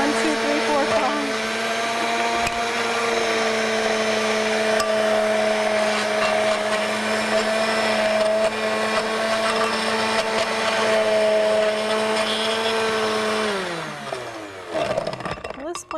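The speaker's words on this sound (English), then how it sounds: "Blender doesn't seem to be wanting to blend this as well" A kitchen blender whirs loudly and steadily as it struggles to blend a frosty shake with ice cubes, a continuous high motor drone that winds down and stops near the end, followed by brief clattering.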